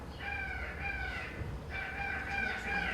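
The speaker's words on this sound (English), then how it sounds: "taking sounds, natural sounds, the crow sound" Rooster-like bird crowing within a sound art piece built from natural sounds, two long harmonic calls separated by a brief pause, loud and close over a low background rumble.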